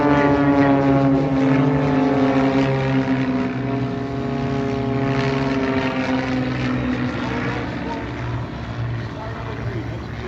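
Propeller-driven aerobatic airplanes fly in formation at the Oshkosh AirVenture airshow, a steady droning engine tone that holds loud throughout and eases slightly toward the end.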